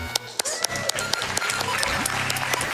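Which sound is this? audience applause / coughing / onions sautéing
audience applause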